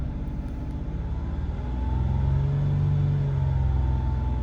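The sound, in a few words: Mazda 6 engine revving to 2500 rpm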